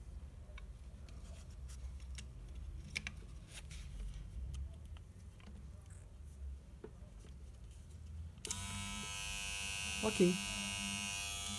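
A corded hair detailer trimmer whose motor runs after a repair of its broken spring holder, a steady electric buzz starting abruptly partway through after quiet handling noises, with a brief word spoken over it.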